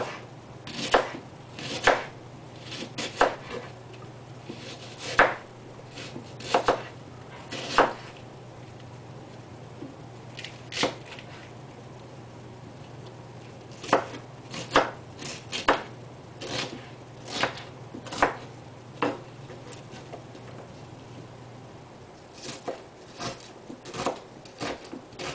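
Knife chopping and dicing tomato on a cutting board for a slow cooker jailhouse stew, with irregular clusters of sharp close-up thuds and pauses between bursts over a faint steady hum.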